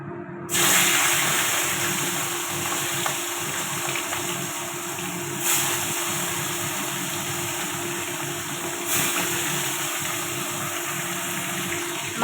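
Fish fries in hot oil in a pan with a loud, constant hissing sizzle that starts abruptly and carries on steadily, swelling in a couple of brief surges.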